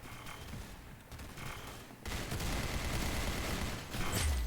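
Odin machine gun firing in the Valorant video game, a dense, unbroken roar of rapid automatic fire that grows louder about halfway through and keeps going to the end, with no talking over it.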